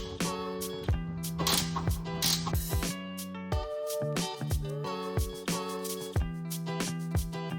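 A ratchet wrench clicks in quick repeated bursts while backing out a 12mm ground bolt in the engine bay of a Mitsubishi Evo X, close and crisp with short pauses between strokes.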